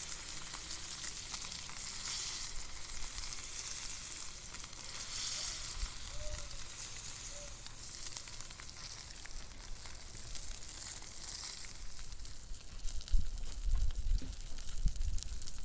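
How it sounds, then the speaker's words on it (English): A redfish throat fries meat side down in a hot pan, giving a steady, close sizzle that runs the whole way through, with a few louder low bumps near the end. "I'm going to flip this redfish throat back over, meat side down, just to give it a little bit more time to cook"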